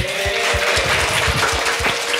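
Audience applause at a church youth service for the songwriter, a steady wash of clapping with a regular rhythmic beat underneath, continuous through the short stretch.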